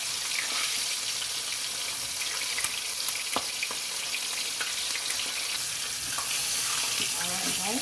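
Coconut-coated fish fries in a hot pot on a medium stove, a steady close crackle and hiss running throughout with faint clinks and watery patter, no talking heard.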